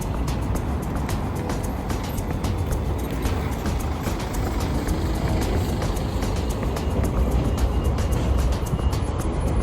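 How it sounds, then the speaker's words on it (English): Busy London street traffic with taxis passing, a steady loud roar of engines and tyres heard up close from the pavement, continuous with no clear talk. "All these taxis, where are they going?"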